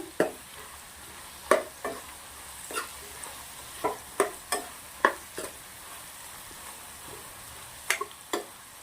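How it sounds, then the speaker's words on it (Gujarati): A spoon stirs turmeric, salt, coriander-cumin powder, chilli and garam masala into potatoes frying in a pan for Bihari-style aloo bhujia. Irregular scraping strokes sound close over a soft, continuous sizzle, with no talking. "હવે આપણે સરસ મિક્સ કરી દેવાનું છે"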